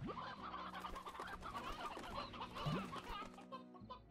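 Stony hens cluck in the Slime Rancher video game, a crowded flock giving overlapping clucks and short squawks continuously, fairly close and without speech.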